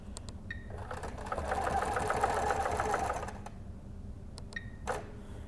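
A sewing machine stitches a quilt in one steady, rapid run of needle strokes lasting about two seconds, with a few clicks and knocks before and after, close up and with no talk.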